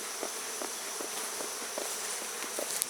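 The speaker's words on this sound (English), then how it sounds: "there's buzzing out like they're swarming" Honey bees stream out of an opened hive during a honey harvest, a steady dense buzzing hum with faint ticking and tapping sounds scattered through it.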